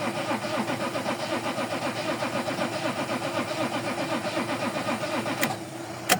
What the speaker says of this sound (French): Déjà le moteur il tourne.